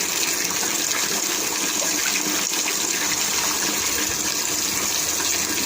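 Water gushes steadily into a cement fish pond, a loud, continuous rushing pour that lasts the whole time with no talk.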